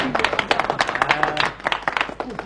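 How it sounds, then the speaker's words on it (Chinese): A scattered audience claps in an irregular, uneven patter, individual hand claps distinct and close, with a faint voice underneath. "那大家可以自由鼓掌吗？"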